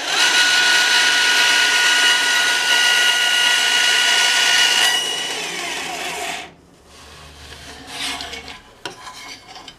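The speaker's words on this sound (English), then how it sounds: "I put the line right on my bandsaw." A bandsaw cuts wood for a cigar box guitar with a loud, continuous rasping buzz for about six seconds. It then cuts out, leaving quieter handling clatter.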